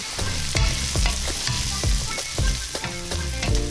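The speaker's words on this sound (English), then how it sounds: "Then we're adding some chopped carrots. Add some garlic and let it cook for a few minutes." Chopped carrots and garlic frying in a stew pot for a vegan bean stew, giving a steady close sizzle with a rhythmic musical backing running throughout.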